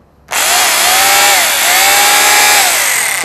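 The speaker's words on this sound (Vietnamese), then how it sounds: "Đây là chế độ vừa khoan vừa đục." A DeWalt D25033K hammer drill runs in combined hammer-drill mode, starting abruptly and holding a loud, harsh, steady buzzing whine that wavers slightly in pitch, close up and alone.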